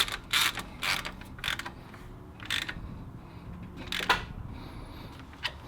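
Timing belt pulley bolts on a LandCruiser diesel engine are tightened by hand with a ratchet, giving faint, intermittent bursts of clicking pawl sound with quiet pauses between.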